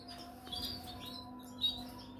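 A small bird sings a few bright chirps and short trills, moderately close, over a quiet outdoor background with a faint steady hum.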